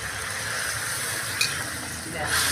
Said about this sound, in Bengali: আর একটু জল দিচ্ছি